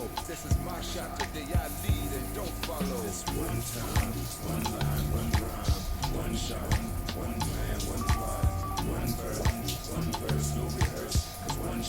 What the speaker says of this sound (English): And I am ready to rinse the conditioner off.